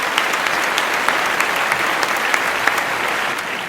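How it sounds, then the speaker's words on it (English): A studio audience at a weekly school TV show gives a round of applause, steady and fairly loud clapping with a few sharper individual claps, easing slightly at the end. "Let's give her a round of applause."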